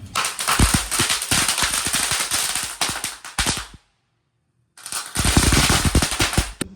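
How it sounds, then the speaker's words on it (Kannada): Firecrackers go off at a Deepavali celebration in rapid loud crackling bursts, a dense chain of pops, then a brief silence before another close volley of bangs. "ಇವಾಗಿದ್ದು ಯಾವುದೋ ಸೂಪರ್ ಮ್ಯಾನ್ ಪಟಾಕಿ ಅಂತ ಹಚ್ತೀನಿ ನೋಡೋಣ"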